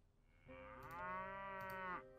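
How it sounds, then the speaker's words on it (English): Cattle in the Mount & Blade Warband video game give a single long, clear moo that swells and then cuts off, heard alone against quiet. "11 cattle."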